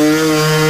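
A motorcycle set up like a trials bike revs hard while climbing an obstacle. The engine gives a loud, close, sustained high-revving buzz over one brief moment.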